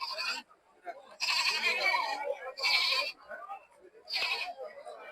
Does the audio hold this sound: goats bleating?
yes